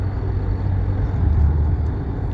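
City traffic in Shiraz, Iran rumbles as a steady, low engine drone of cars and larger vehicles, continuous and fairly loud with no distinct horns or voices.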